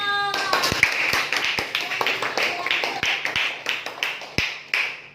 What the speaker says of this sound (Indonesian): Baik, tepuk tangan dong.